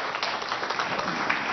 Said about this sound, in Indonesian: tepuk tangan sekali lagi yuk